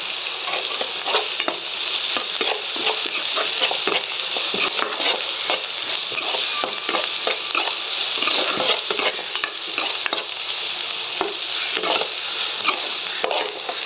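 Onions sauté with salt in a pan for fish gravy, giving a dense, constant crackling sizzle with frequent small ticks and scrapes of stirring, close by and without speech.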